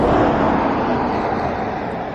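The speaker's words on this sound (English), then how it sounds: "It's the traffic you hear behind me." Steady road traffic roars from behind on a Kauai street, a continuous broadband wash of passing cars at moderate distance with no talk over it.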